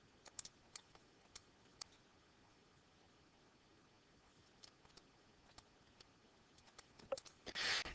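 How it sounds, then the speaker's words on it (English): Quick, light key clicks from numbers being tapped into a calculator, scattered in short bursts over quiet background hiss, with a louder clatter of presses at the end. "it doesn't take long to type that into the calculator"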